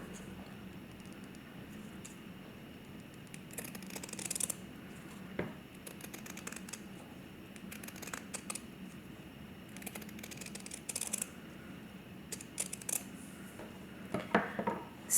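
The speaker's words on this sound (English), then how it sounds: "you're going to take the scissors and you're going to trim around" Scissors snip and trim around a pencil line through fabric for appliqué, giving quiet, irregular cutting clicks and rustles in a soft indoor setting.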